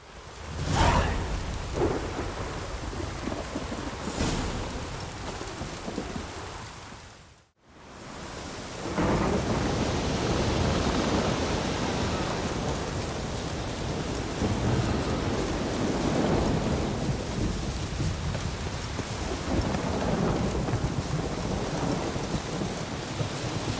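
A thunderstorm from The Witcher 3 rumbles with heavy, steady rain and rolling thunder for over twenty seconds, broken by a brief near-silent gap before the downpour resumes.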